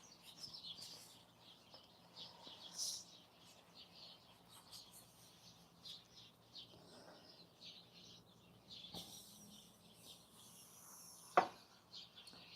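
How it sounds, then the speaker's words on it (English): Birds chirp in a big tree out front, scattered high tweets coming and going at a moderate distance over low background hum, with a sharper burst near the end. "Birds are going crazy in my tree."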